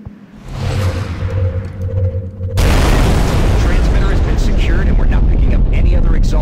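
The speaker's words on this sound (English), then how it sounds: "Firing rocket." A rocket fires and blows up in XCOM: Enemy Within: a low rumbling launch with a steady hum gives way to a sudden loud broadband explosion at about 2.5 seconds, then a sustained roaring blast and crackling debris that fill the rest.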